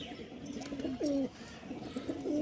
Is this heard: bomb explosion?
no